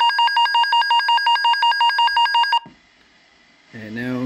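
A Kenwood NX3300 two-way radio sounds its man-down alarm as a rapid, loud train of evenly pulsed electronic beeps for about two and a half seconds, cut off abruptly, then a voice talks.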